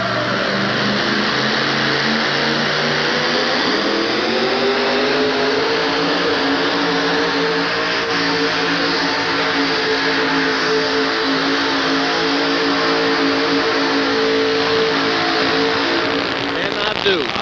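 A two-wheel drive truck at a 1988 USHRA truck pull in Hartford roars at full throttle, its loud engine revving steadily for the whole stretch and climbing in pitch a few seconds in before holding a high, straining drone.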